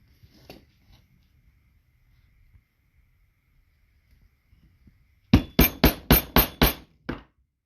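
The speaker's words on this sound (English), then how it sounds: "get your hole punch" A hole punch struck through leather during rivet work, heard as a quick run of about seven sharp, loud, evenly spaced impacts after a mostly quiet stretch with faint handling noise.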